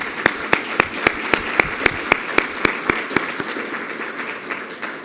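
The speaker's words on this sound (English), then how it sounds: "Round of applause for you." Sparse applause at a security forum in Washington, D.C., with one or two nearby pairs of hands clapping sharply in a steady rhythm over a softer crowd patter that fades out.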